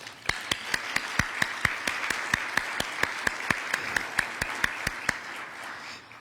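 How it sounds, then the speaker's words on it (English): Applause for new members at a membership luncheon meeting: a prominent single clap repeats in a steady, regular rhythm above a softer wash of scattered clapping from the room, then stops near the end. "let's give them a round of applause"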